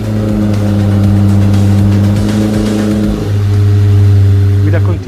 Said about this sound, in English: With Temerario, we are inaugurating a new experience in terms of engine sound.